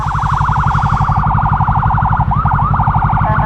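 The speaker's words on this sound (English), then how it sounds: "I hear sirens." An emergency siren wails in fast, rapid up-and-down cycles that shift pattern near the end, heard from a moving modified Yamaha R3 motorcycle on a wide road, its steady engine drone running underneath, with no talking.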